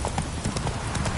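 Horse hooves clip-clop at a quick, even trot in The Witcher 3: Wild Hunt, played on PS5, loud and close, with a faint voice briefly in the background.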